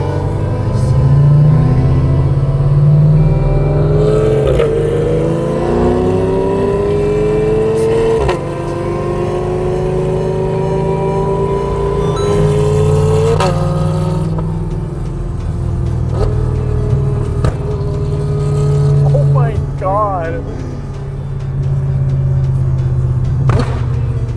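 A loud Porsche GT3 RS engine rumbling and revving repeatedly from inside the car, with rising and falling pitch sweeps as it accelerates and shifts.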